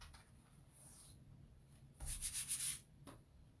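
A Chalk Couture transfer is rubbed to fuzz it with lint, heard as close, soft scratchy rubbing strokes, brief at first and then a louder burst of several quick back-and-forth rubs, with no talking.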